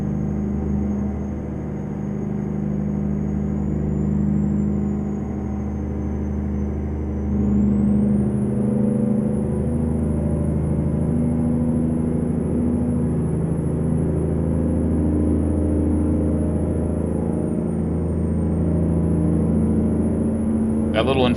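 Cummins engine of an International 9800 cabover truck in American Truck Simulator, a steady deep low drone with layered harmonic rumble that holds throughout at constant loudness, with a voice talking over it.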